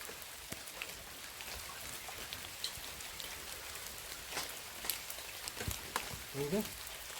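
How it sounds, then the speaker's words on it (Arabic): Heavy rain pours down outdoors in steady dense hiss, with scattered louder drops hitting nearby surfaces and a faint brief murmur near the end. "دابا كما كتشوفوا راه الشتا مجهده كطيح"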